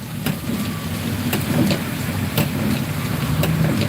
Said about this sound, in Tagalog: Grabe ulan dito.